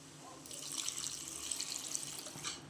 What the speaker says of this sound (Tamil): இது கூட ஒரு செம்பு தண்ணி ஊற்றிக்கலாம்.